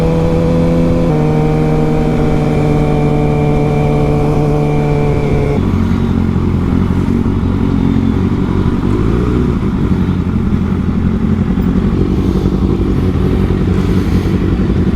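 Motorcycle fitted with a LeoVince exhaust, its engine droning steadily nearby, the note shifting pitch partway through as it changes gear, then continuing as a rough, continuous rumble with wind noise.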